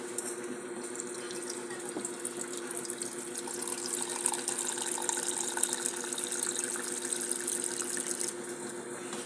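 A glass of water poured into a cooking pot while preparing laswa, a continuous splashing gush of liquid lasting several seconds, close and fairly loud with no talking.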